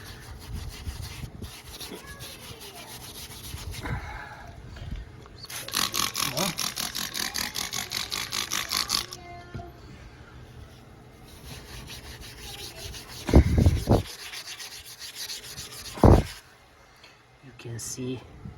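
Steel wool scrubbing a whitewall tire sprayed with Duragloss 701 whitewall tire cleaner, a close rasping scrub in steady strokes with a loud stretch in the middle and occasional knocks, mixed with quiet talk.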